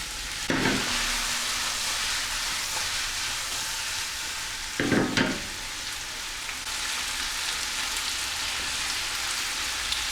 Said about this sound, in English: So once our mushrooms are starting to cook